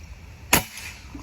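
A single sharp, hard PCP air rifle shot cracks out once, loud and close, then fades into a quiet background.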